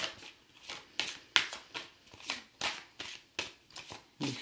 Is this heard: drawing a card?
yes